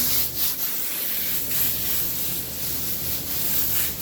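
Continuous hissing spray of water at close range onto shiitake mushroom grow blocks, a dense wash with slight pulsing as the stream moves, no voices.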